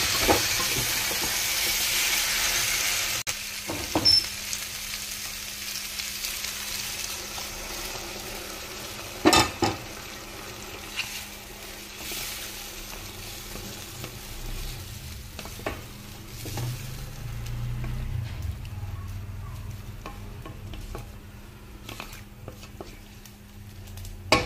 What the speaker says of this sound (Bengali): একটু নাড়াচাড়া করে জলটা দিয়ে দিচ্ছি